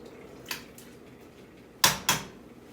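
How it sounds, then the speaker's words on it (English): Vegetable stock ingredients of water, herbs, seasoning and mirepoix are stirred in a pot, giving a few sharp scraping clinks, one early and two close together near the end, over quiet background. "give it a nice stir"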